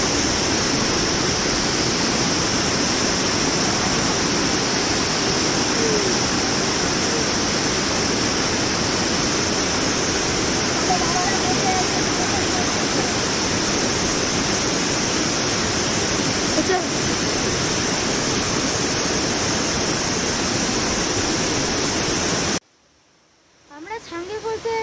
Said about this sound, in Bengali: সেই জল পড়ার শব্দ এক মোহময়ী পরিবেশ তৈরি করছে এখানে।